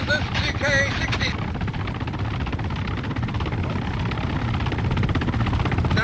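A helicopter's rotor in the video game Arma thumps steadily and loudly throughout, a dense chopping drone that stays close the whole time.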